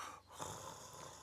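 A man snores in a loud, rough, rasping rattle. The sound is compared to a shovel loader's exhaust, and it fills the short moment close and harsh with no speech.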